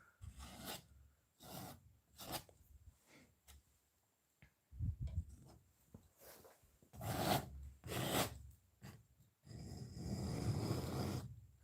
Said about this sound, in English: Using my palette knife and just scrape